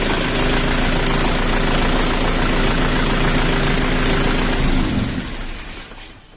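A DTZ 5504K tractor's turbocharged engine idles with a steady low rumble and knock, then is shut off near the end and winds down into quiet.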